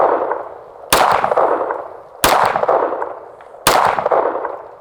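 Three loud, close .45 ACP pistol shots fired into a self-healing target, evenly spaced about 1.4 seconds apart, each leaving a long ringing decay; no talk.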